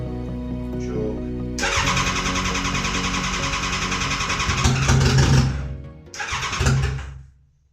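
A rebuilt Suzuki GSX-R turbo motorcycle engine cranks, catches and revs loudly up close, cuts out, then fires again briefly before dying away.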